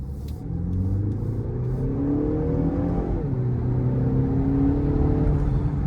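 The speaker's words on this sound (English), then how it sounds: "The engine makes a lot of noise." The engine of a 2025 BMW X1, heard from inside the cabin, climbs in pitch as the SUV accelerates in comfort mode. It is a loud, continuous drone with no talking.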